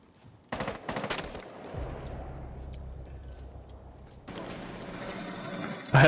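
A burst of rapid gunfire in Rainbow Six Siege, loud, short cracks early on followed by mechanical clatter and a steady low hum, with another sharp shot at the very end.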